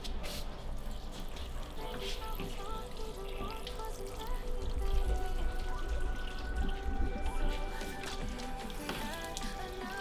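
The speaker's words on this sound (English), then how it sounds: "Run some water along the backside" Water from a hose runs over the body of an E30 sedan, a continuous splashing patter on metal with scattered drips, steady and fairly close, swelling slightly midway.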